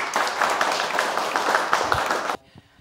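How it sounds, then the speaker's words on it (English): A small studio audience at a community television program clapping for a young guest, a lively patter of hands for about two seconds that stops abruptly, leaving near silence. "Let's clap for him."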